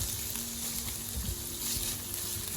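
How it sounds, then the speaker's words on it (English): Diced onions frying in oil in a pan for a wholewheat chicken pie filling give a steady, close sizzle with a soft crackle, heard alone without any talk. "So I will be adding my diced onions to the oil."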